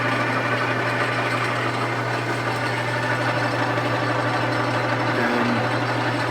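A Grizzly metal lathe runs in gear while cutting a pinion gear, producing a continuous steady mechanical hum and drone with no talking.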